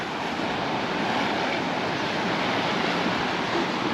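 Rough sea waves wash steadily onto a small rocky beach on Mallorca's Costa de la Calma after days of wind, a constant dense roar of surf with no voices.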